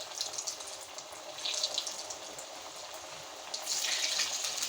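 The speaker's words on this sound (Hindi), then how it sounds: "घी हमारा गर्म हो चुका है। अब हम डालेंगे इसमें अपने समोसे" Samosas fry in hot ghee with a continuous hiss and crackle that swells partway through and grows louder and fuller at the end.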